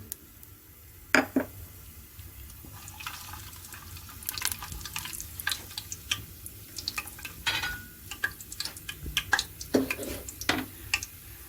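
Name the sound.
whole garam masala frying in hot oil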